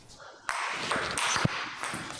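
A table tennis paddle strikes the ball in forehand loops, producing a couple of crisp, brushing impacts in a practice hall with faint background noise.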